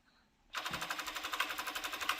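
A sewing machine stitching velour along a handle on a sofa cover, starting abruptly after a near-silent moment and then chattering in a fast, regular rhythmic pulse, close and steady, with no talk.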